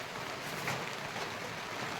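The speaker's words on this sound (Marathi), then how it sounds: "आता हा असा पाऊस चालू आहे" Steady rain falls on farmland in Jalna district, a soft continuous broadband hiss with no distinct drops, moderately quiet and unbroken throughout.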